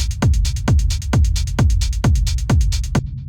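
Techno drum groove from a production session: a punchy kick on each beat with a falling low thump and bright hi-hat ticks between, loud, driving and steady, with no voice.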